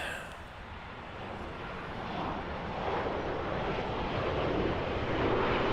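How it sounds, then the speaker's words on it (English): A WestJet airliner passing at Toronto Pearson airport, a broad roar that builds gradually from moderate to louder over several seconds, with some wind noise on the microphone. "Here comes a WestJet."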